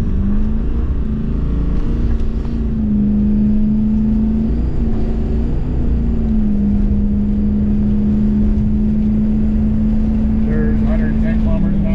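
A Ford car engine holds a steady, loud drone under full-throttle acceleration, heard from inside the cabin with constant road and wind rumble throughout.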